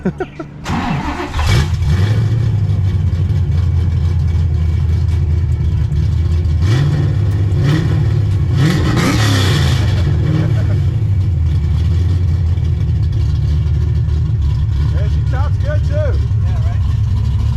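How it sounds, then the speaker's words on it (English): A Ford Foxbody with a naturally aspirated 347 V8 cranks, fires up and settles into a loud, lumpy idle close by, then rises in several rev blips, with people talking over it. "what do you say we give them a little start up and rev?"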